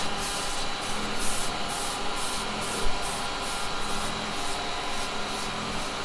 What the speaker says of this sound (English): I'm sanding that side